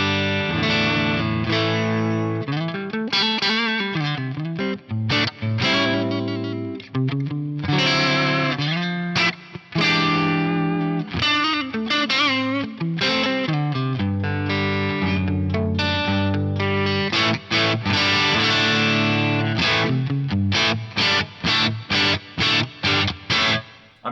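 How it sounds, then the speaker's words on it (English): Fender Buddy Guy Stratocaster on the neck pickup, dialed to a cleanish edge-of-breakup tone with hall reverb, playing a long bright lead passage of bends and chords, loud and continuous with no talking. "Let's just have a listen to the way I've dialed this in for a kind of cleanish edge of breakup style tone."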